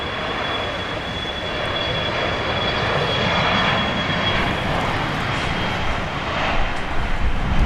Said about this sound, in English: FlexJet 436 to Montrose, Colorado. An Embraer Praetor 500.